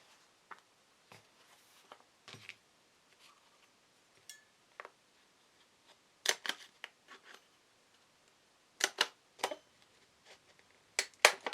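Scissors trimming the border off a laminated planner page, heard as sparse, faint snips and clicks spread across a quiet room, growing crisper and louder toward the end.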